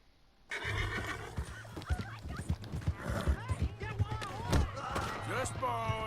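A horse in the Red Dead Redemption 2 video game gives a loud, close whinny over clip-clopping hooves and thuds, with voices talking throughout.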